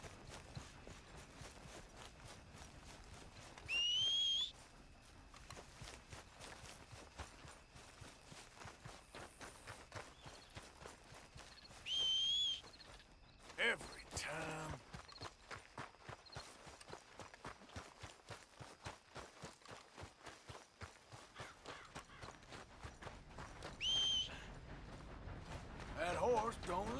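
Hooves clip-clop in a quick steady rhythm as a horse trots in the Red Dead Redemption 2 video game, close and continuous, with brief bursts of other game sounds over it.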